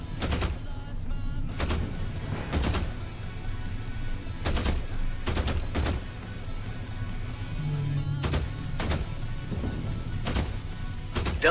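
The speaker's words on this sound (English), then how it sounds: "Let me go up here and see if I can get a couple of shots off of," Gunshots in The Last Caretaker crack out in sharp bursts, some single and some in quick pairs and clusters, loud and close over a steady droning game background.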